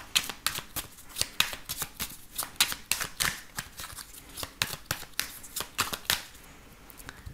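A 32-card deck being shuffled for a card reading, a rapid run of crisp riffling snaps and slaps close by, continuous for several seconds with no talking.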